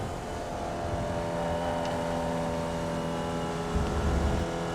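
A Formula Vee race car engine in iRacing drones steadily at Summit Point Raceway while working through the last corner, a constant buzzing hum with a slight rise in revs near the end.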